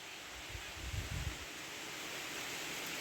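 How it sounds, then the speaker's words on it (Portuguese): Strong wind gusting through trees on a rural farm plot near a marsh, a steady broad rush with a louder low buffeting surge early on, continuing evenly. "Olha o vento."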